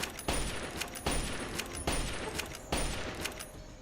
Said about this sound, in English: Why is it shooting at me?